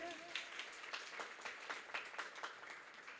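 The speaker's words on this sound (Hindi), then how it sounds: "एक बार ताली बजा के विदा करिए।" Quiet, fairly regular applause from an audience at a Hindi comic poetry gathering in Naimisharanya, distinct claps in a loose rhythm over a few seconds as a poet is sent off.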